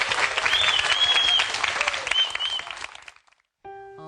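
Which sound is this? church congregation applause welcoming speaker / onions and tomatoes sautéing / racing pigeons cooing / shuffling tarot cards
church congregation applause welcoming speaker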